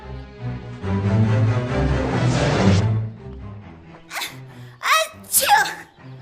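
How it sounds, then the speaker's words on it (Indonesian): A cartoon squirrel's sneeze, mixed among music and chatter, followed by a few sharp bursts near the end; talking accompanies it. "Kenapa bisa ada bunyi bersin tadi?"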